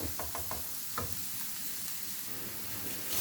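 Grated vegetables for a vegetable bolognese sauce sizzle steadily in a pan, a constant close frying hiss with a few quick scraping stirs near the start and no talking.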